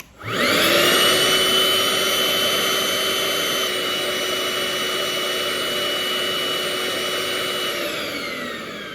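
A Milwaukee cordless vacuum motor whines steadily and loud for several seconds with the trigger held, then cuts out and spins down to silence as the power shuts off.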